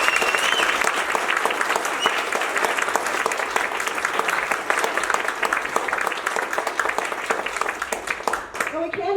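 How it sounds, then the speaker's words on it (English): A room full of people at an event gives sustained applause, dense and close, continuing at full strength and thinning out only in the last moment. "Let's give Dan and Barb another round of applause."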